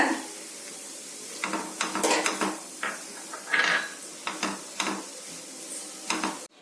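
Potato masala with coriander leaves is mixed in a pan, a string of close scrapes and metallic clinks from the utensil against the pan that comes in quick irregular bursts, with no voices.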